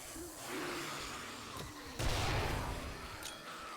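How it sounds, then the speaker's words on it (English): A grenade explosion in the 7 Days To Die video game bursts out as a loud, broad blast roughly midway through, standing over a steady hiss of game background noise. "That explosion effect did not look very good."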